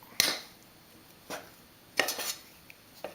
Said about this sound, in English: you want to kind of knead it a little bit